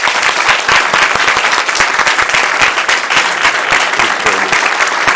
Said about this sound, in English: Join me in giving Mr. Lamb a round of applause.